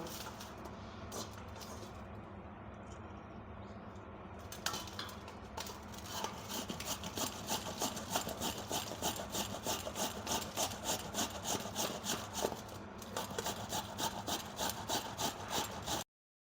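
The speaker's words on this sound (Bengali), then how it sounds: "প্রথমে আমি আলু দুটো গ্রেট করে নেব।" Two raw potatoes are grated by hand, a fast, even rhythm of rasping strokes that runs continuously for several seconds after a brief start, close and steady.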